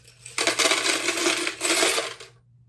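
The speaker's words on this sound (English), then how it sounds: "put all my coins in there" Coins poured into a passcode piggy bank, a loud metallic clatter and jingle of many coins tumbling in together, lasting about two seconds before stopping abruptly into silence.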